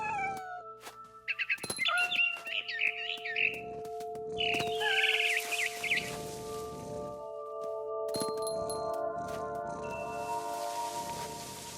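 A frightened barn swallow in the video game What Remains of Edith Finch chirps in short, high, agitated bursts over a sustained tonal game soundscape, with bursts clustered near the start and middle.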